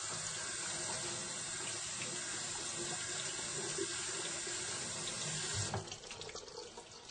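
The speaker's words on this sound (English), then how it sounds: "I'm just going to go through and rinse them once more." Tap water runs steadily into an EasySprout sprouter to rinse a batch of sprouts, a close, continuous splashing stream that eases off near the end as the flow changes.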